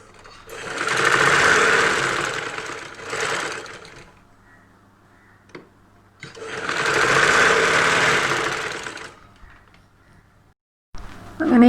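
Sewing machine joining the shoulder seam of a saree blouse, two sustained runs of steady whirring stitching with a quiet pause between, close and clear.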